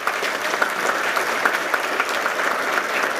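An audience at an awards ceremony gives steady, dense applause for the awardees, a loud sustained wash of many hands clapping close by, without speech over it.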